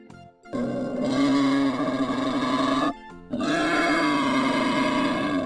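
A wild boar grunts in two long, loud, rough bursts separated by a short gap, close and unaccompanied by any talk.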